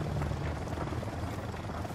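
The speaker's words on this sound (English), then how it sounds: "I hear a helicopter." A helicopter in the video game Ghost Recon Wildlands gives a steady, loud rotor roar with a rough, even drone that holds for the whole stretch and has no talk over it.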